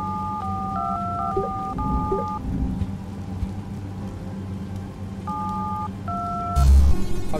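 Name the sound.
dialing a phone box telephone in Mr. Hack Jack video game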